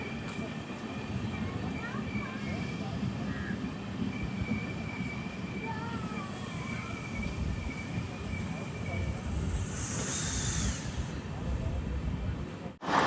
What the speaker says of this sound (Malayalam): ട്രെയിൻ ഇപ്പോൾ കരുനാഗപ്പള്ളി സ്റ്റേഷനിലേക്ക് എത്തുകയാണ്